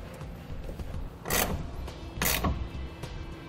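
Clamp for a BAKFlip FiberMax hard tonneau cover being tightened onto the bed rail of a 2018 Chevrolet Colorado, heard as two short ratcheting bursts over low background noise, close up with no speech.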